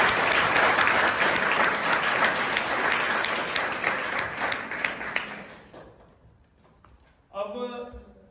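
A school audience at a district-level youth village panchayat competition gives the children loud, sustained applause with rhythmic clapping that fades out after about six seconds, followed by a brief burst of voices at the end.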